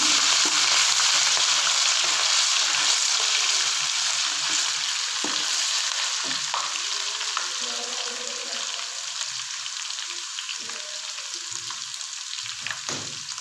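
Garlic paste softening in hot oil for a chicken korma, a steady close sizzle with soft stirring scrapes throughout, gradually easing slightly over the stretch.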